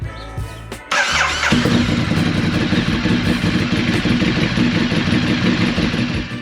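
A 2020 Bimota Tesi motorcycle engine is started after an oil change and tune-up. A brief crank catches into a loud, steady, close idle that runs on alone.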